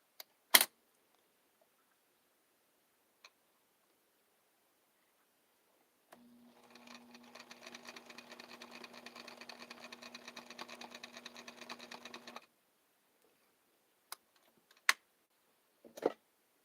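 A home sewing machine stitches a tester piece of fabric for a cosplay jacket, a steady rapid mechanical whir lasting about six seconds, with a few sharp clicks and handling knocks before and after.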